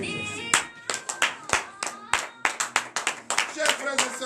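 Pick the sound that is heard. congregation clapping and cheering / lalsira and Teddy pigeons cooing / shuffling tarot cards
congregation clapping and cheering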